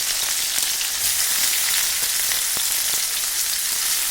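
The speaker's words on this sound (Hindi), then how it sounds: "टमाटर डाल के थोड़ा सा फ्राई होने के बाद हम इसमें मेथी का साग को डाल देंगे" Steady, dense sizzling of tomatoes and onions frying in a pan for a Hindi-style methi saag dalma, close and continuous throughout with no talk.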